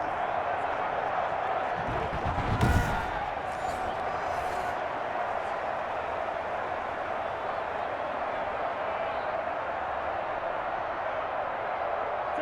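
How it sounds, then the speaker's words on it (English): Dense football stadium crowd roar during an NFL game between the Minnesota Vikings and Arizona Cardinals on third and goal, a steady loud wash of noise that swells briefly, with commentators talking over it. "this crowd's going to get even louder"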